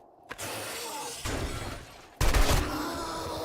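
Gunfire in the survival video game 7 Days to Die, a run of loud sustained shots and impacts in three bursts, growing louder toward the end, with no talking.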